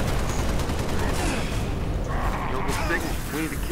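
Rapid bursts of gunfire and explosive pops from the video game Halo: Reach fill a dense, continuous barrage with no pause.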